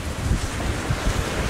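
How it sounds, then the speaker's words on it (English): Wind gusting over open sea with waves washing around a moving boat, a steady close rush with low buffeting pulses; no voices. "The wind actually sort of comes and goes"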